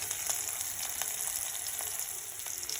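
Curry leaves sizzle in hot oil along with cumin seeds and onions, giving a steady close frying hiss with faint crackles throughout and no voices.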